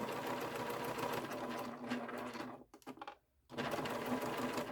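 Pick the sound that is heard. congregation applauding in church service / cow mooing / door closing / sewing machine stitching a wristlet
sewing machine stitching a wristlet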